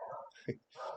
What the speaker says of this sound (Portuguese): E nesse momento tem um cachorro latindo